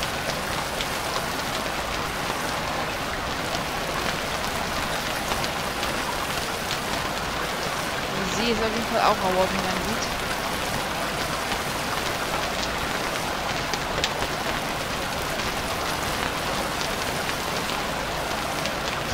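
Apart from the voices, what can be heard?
rain in the video game Stranded Deep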